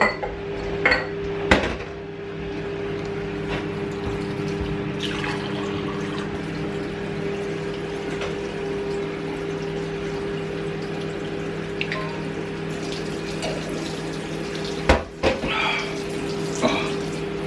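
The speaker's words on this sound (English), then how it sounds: "Getting my first glass of water." Tap water runs into a drinking glass in a home kitchen, with the sharp clinks of dishes and cutlery around it. The water flows steadily and close by, and no one speaks.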